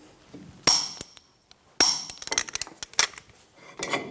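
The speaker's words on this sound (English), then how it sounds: "We're going to install a punch into the fins of our brake rotor." A steel punch is set into the cooling fins of a front brake rotor on a 2005-2010 Toyota Tacoma, making a few sharp metallic clinks and clanks close by, followed by lighter rattling taps.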